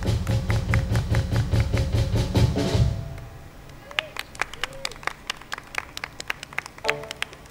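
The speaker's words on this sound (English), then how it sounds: "drums sound like this" A drum kit played live at a band performance: about three seconds of loud, steady rapid beats, then sparse, sharp hits and taps with gaps between them, close and prominent.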